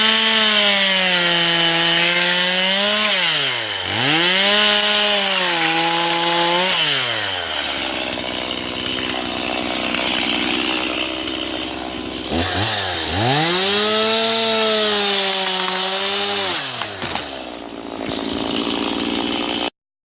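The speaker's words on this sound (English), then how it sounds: "I know how to use a chainsaw safely and efficiently" A chainsaw cuts into a tree trunk during felling, its engine revving up and bogging down in rising and falling surges, idling between two loud cutting bursts.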